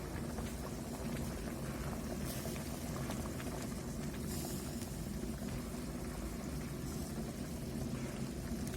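A pot of thickened Chinese soup simmers on the stove, a constant low bubbling and rumbling burble with occasional soft pops. The sound holds steady and close throughout, with no talking.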